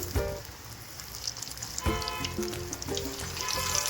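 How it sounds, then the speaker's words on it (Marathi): Fish frying in a pan gives a soft, steady crackling sizzle, fairly faint, with some tonal background sound underneath. "दुसरी बाजू बी फ्राय करायची"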